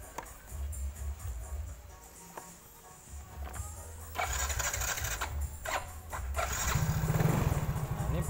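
A Yamaha Mio scooter engine is cranked and starts, with clicking and whirring giving way to a louder running engine idle that grows rougher and stronger toward the end.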